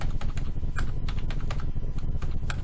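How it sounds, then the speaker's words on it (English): Numbers typed on a computer keyboard, with rapid, close key clicks in an irregular patter and a low hum underneath. "just keep on typing 1000"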